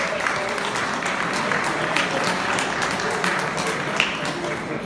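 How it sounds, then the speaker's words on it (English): Applause from an audience at a crime writers' awards event, broad steady clapping filling the room from start to finish with a few sharper claps standing out. "I said I was going to ask you for rounds of applause"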